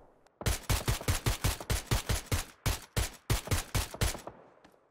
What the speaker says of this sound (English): Who's he shooting?